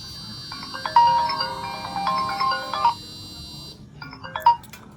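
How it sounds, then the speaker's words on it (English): A Lenovo Watch Fit smartwatch plays an incoming call ringtone, a bright electronic melody of repeated tonal phrases, fairly loud and close, pausing briefly before starting again over faint background noise. "the call notification works"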